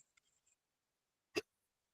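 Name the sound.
hiccups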